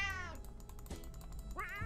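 Cat meows in the survival video game 60 Seconds, two fairly loud, drawn-out calls, one at the start and one near the end, separated by a quiet gap with faint clicking.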